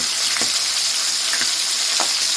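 Steady sizzling of fish frying in a pot with a bright hiss throughout, broken by a few faint clinks or stirring taps.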